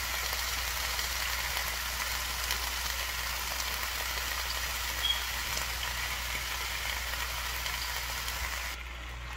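Onions and green peppers frying with sliced potatoes in a pan for a pork chop dinner, a steady, soft hiss of sizzling that holds evenly throughout.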